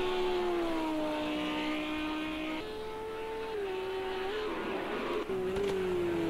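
GT3 race cars in a video game race at Sakitto GP, a Ferrari among them, engines howling at high revs with clear gear-shift steps and sliding pitch, loud and steady close by.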